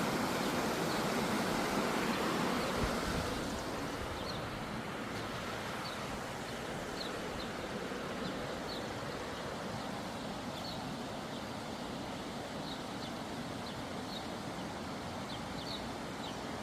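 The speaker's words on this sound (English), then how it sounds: "can't for the life of me remember what this waterway is called, but I always loved the sound of it" Water flowing in a waterway near Mount Savage, Maryland, a steady broadband rush heard close, with faint bird chirps over it.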